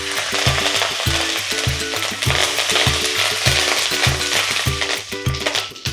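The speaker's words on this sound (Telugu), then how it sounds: "అండ్ నెక్స్ట్ తాలింపు వేసేసాం కదా, బాగా వేగిపోయింది" Curry leaves sizzling in hot tempering oil in a pan for Andhra-style stuffed brinjal curry, a loud continuous frying crackle with rhythmic stirring scrapes throughout.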